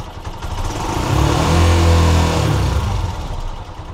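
A Honda TMX 125 Alpha motorcycle engine with a hard-starting fault revs up from idle, climbing to a loud, close drone before falling back toward idle, with no talk over it.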